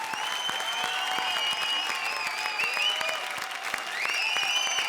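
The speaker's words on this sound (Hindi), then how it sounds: "जोरदार तालियां हमारे 6 के 6 ट्रायोस के लिए" Steady, loud applause from a studio audience on the Comedy Circus TV comedy show, a continuous wash of clapping with no pauses.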